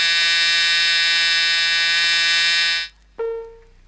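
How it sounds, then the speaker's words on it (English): A Chrysler seat belt warning buzzer, sounding with the ignition on and the driver's belt unfastened, gives a loud, steady electric buzz for about three seconds. It cuts off, then a brief second tone follows. "The warning light and buzzer operate when the ignition is on, the torque flight selector is in any gear, and the driver's seat belt is not fastened"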